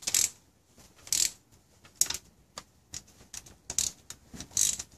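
Ratchet wrench loosening the eight cylinder head bolts on a Toyota 5VZ-FE V6 engine, in sharp bursts of rapid clicking separated by short pauses, close and clear with no talking.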